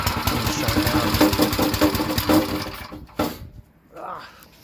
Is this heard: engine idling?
yes